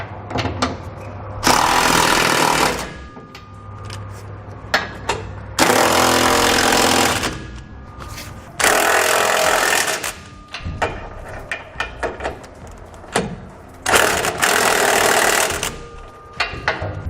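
Impact wrench bursts tightening Curt trailer hitch receiver bolts and flange nuts on a 2013 Chevrolet Silverado, four loud broadband bursts of a few seconds each separated by quieter shop noise.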